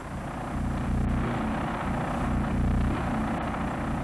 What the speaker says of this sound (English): That low rumble is the AVIC Zhuo Tian.